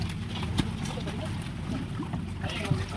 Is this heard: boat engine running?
yes